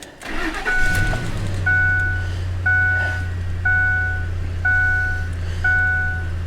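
A Ford F150 pickup with a misfire cranks briefly and catches, then settles into a steady low idle, while a repeating electronic chime beeps in regular pairs over the running engine.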